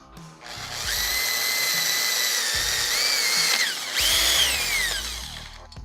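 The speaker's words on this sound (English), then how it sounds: "Drill out these 1/4-inch center holes here to accommodate the track bolts." A power drill whines steadily at close range, drilling 1/4-inch holes for track bolts on a kayak, running almost continuously with a brief dip in pitch and a short pause before spinning up again.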